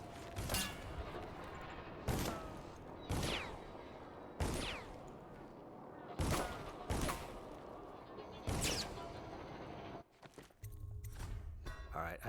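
Enemy guards fire in Dishonored's Brigmore Witches DLC, sending sharp gunshots every second or so, each loud and echoing, with quieter movement between shots and a low rumble near the end.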